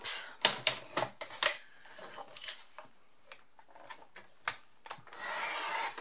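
Card pieces for a handmade greeting card, made from a Tonic Craft kit, are cut by hand, giving a quick run of crisp snipping and rubbing strokes, then quieter scattered rustles and a final steady hiss of paper handling.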